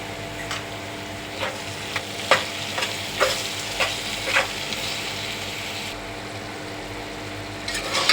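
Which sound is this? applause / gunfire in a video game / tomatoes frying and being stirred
tomatoes frying and being stirred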